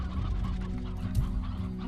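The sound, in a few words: hens clucking in Slime Rancher video game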